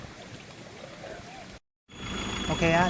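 Flowing stream water at a Thai waterfall rushes and trickles steadily at close range, cut by a short dropout before resuming louder, with faint background sounds.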